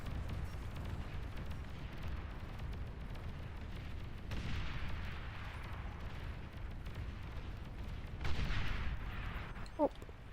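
Explosions and gunfire in the strategy game Beyond All Reason, a steady rumbling battle din with a louder burst of blasts near the end and a short sharp crack just after.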